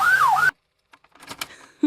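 A toy ambulance in a children's truck cartoon sounds a short wailing siren, rising and falling loudly for about half a second before cutting to silence, followed by faint clicks and a brief voice near the end.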